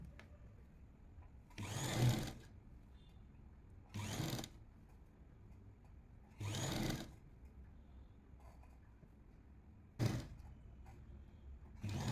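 A sewing machine stitches the side seam of a 40-inch lined jacket in four short bursts of running, each a second or less, with quiet pauses between them.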